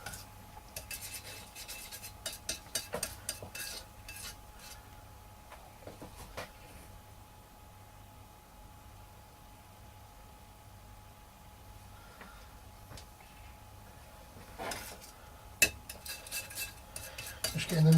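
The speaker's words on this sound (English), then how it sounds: "So I kind of mix it on the plates." Brushes or palette knives scrape and tap on plates while paint is mixed, giving scattered scratchy bursts near the start and end with a quieter stretch between; no one talks.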